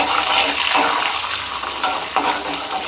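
Chana dal and urad dal fry together in oil in a pan, giving a steady, close sizzle with soft stirring and scraping throughout and no talking.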